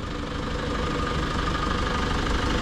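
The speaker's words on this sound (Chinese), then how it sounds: "它好像是115个千瓦的康明斯发动机。" A truck's 115 kW Cummins diesel engine idling close by, a continuous rough, knocking rumble with a steady vibrating throb, no voices over it.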